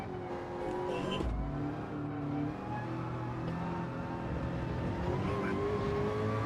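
Racing car engine in a video racing game, a continuous steady drone with rising and falling whine as the car speeds along, no talking.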